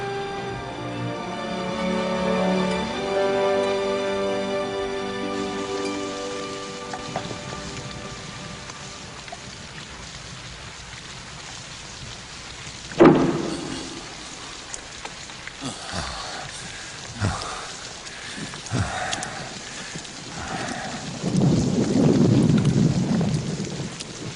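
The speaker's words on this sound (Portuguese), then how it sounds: "Ora, Baal nos enviou a chuva." Rain falls in an animated Bible cartoon as a steady wash of noise that follows fading music, with a sharp crack like thunder and a deep rumble swelling near the end.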